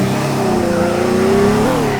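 A Ferrari in the game Teardown accelerates hard, its close, loud engine note climbing steadily in pitch over two seconds with no talk.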